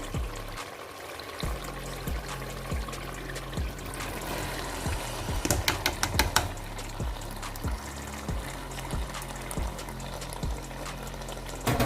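Lentils (daal) go into a pot of cooked, oil-glossed meat with a wet pouring splash midway, set against a steady rhythmic ticking in the background.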